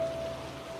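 Steady, soft rain falling on surfaces, a faint continuous patter with no voices or thunder.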